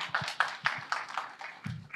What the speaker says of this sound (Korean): 정수영 양을 박수로 우리 환영합시다